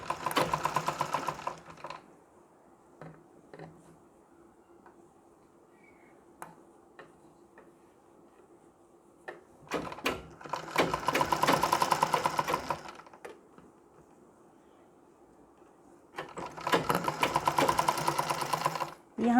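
A sewing machine stitches fabric for a Nauvari saree in three loud bursts of rapid, rattling stitching, separated by quieter stretches with faint ticking and handling sounds.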